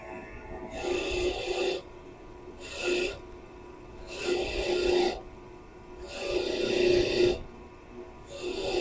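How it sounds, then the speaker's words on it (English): Worn wire brush wheel on a bench grinder scrubbing an old bolt during a timing chain and water pump job: five rasping bursts of varying length, separated by quieter gaps of the motor running, close and fairly loud. "we have the grinding rock on one side and a fairly experienced, worn-out wire brush on the other"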